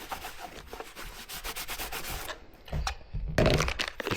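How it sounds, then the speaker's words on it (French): A cloth wipes and degreases a box with acetone, close-up rubbing strokes in a steady back-and-forth rhythm with brief pauses and a louder scrub near the end, no talking. "On dégraisse bien avec de l'acétone."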